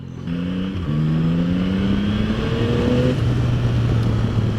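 A Yamaha Tracer 9 motorcycle revs hard through second gear, its engine note climbing steadily in pitch over a few seconds, loud and close with a continuous rising drone.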